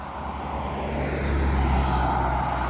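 A truck rolls past on Highway 20, a steady broadband roadway rumble that builds slightly and stays close and fairly loud for the whole stretch, with no voices.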